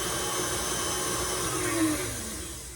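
An electric mixer whips cream for a chocolate cream pie, giving a steady close whirring motor drone that holds level for the whole stretch and eases slightly at the end, with no voices over it.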